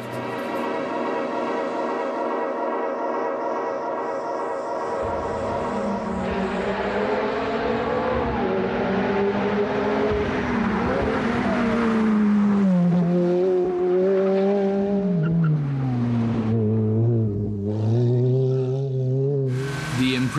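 A Ferrari F430 V8 revs hard on a race track, loud and close, its engine pitch climbing and dropping through upshifts and throttle changes for the full stretch, with a voice speaking over it at times.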